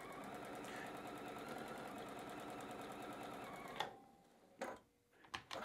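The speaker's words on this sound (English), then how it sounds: "drop my presser foot, and I'm gonna go ahead and just stitch on through here." A sewing machine runs steadily, stitching through squared-up quilt patchwork pieces, with a fast even mechanical chatter for several seconds before it stops, followed by a few brief handling clicks.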